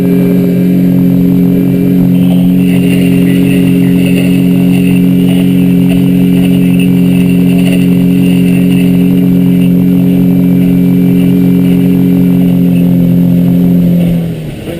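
Motor of a 2003 Alumaweld 15' Stryker aluminum boat running continuously and loudly on the water, an even drone with slight pitch shifts that settles as it throttles down near the end.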